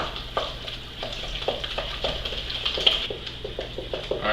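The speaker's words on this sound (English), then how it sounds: "So now I want to mix this until it's pretty much smooth." Cookie dough being stirred by hand until smooth for healthy cookies, a steady run of soft, rhythmic scraping and wet mixing strokes in a bowl, close and fairly loud with a low background hum.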